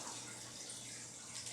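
Water running into a canner pot from a tap, a steady, faint, continuous wash of flow throughout.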